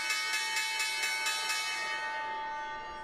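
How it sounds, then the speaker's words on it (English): Stock market closing bell rings in a rapid run of bright metallic strikes for about a second and a half, then its tone lingers and fades, clear and without any talk. "That was the sound of the closing bell."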